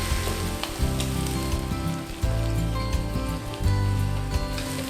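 Shiitake mushrooms and ginger stir-fry on high heat with soy sauce, soy paste, chili bean paste, sacha sauce, pepper and five-spice, making a loud, dense, continuous sizzle with occasional scrapes.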